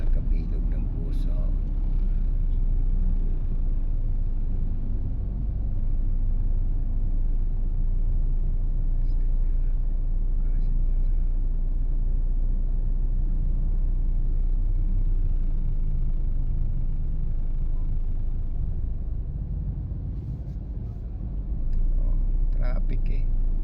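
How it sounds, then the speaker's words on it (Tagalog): Stopped traffic jam with lines of queued jeepneys near a stoplight in Taguig, a steady low engine rumble of idling vehicles filling the scene throughout, with faint voices now and then. "Traffic yan, walang galawan."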